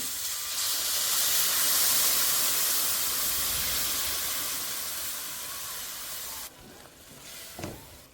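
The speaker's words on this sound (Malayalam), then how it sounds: "ഇന്നിപ്പോൾ നമ്മൾ ഇതിലേക്ക് കുറച്ച് ചൂടുവെള്ളം ആഡ് ചെയ്യുവാണേ" Hot water poured into a spice masala mixture gives a loud, steady hiss and sizzle of steam lasting several seconds, then cuts off abruptly, followed by a small clink.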